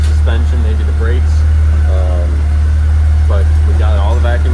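A Porsche 944 engine idles steadily with a deep, constant low hum, while someone talks over it.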